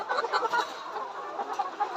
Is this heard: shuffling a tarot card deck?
no